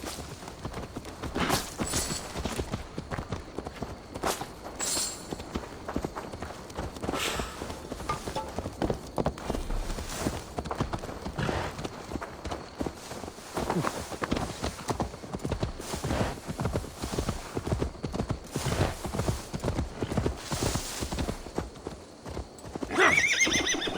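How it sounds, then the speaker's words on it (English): Horse hooves clip-clopping in Assassin's Creed Valhala on PS5, a continuous rhythmic trot with a whinny, steady and close throughout with no talk. "Now to deliver Magni his horse."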